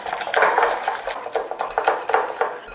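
Mashed banana and yogurt stirred in a bowl for buckwheat muffin batter, making soft, wet, irregular scraping and squelching strokes close up with no voices.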